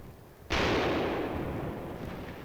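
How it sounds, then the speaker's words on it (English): A single loud, close blast hits sharply and then rolls into a long, dense rumbling decay, like gunfire or a bazooka round in World War II newsreel combat footage, with no voices. "We kept at them with rifle fire, bazookas,"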